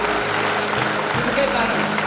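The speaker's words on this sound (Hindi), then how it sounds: "शहीदों के लिए जोरदार ताली" Loud, steady applause from a crowd at a school Independence Day celebration in Dewas, India, continuous throughout with a low electrical hum underneath.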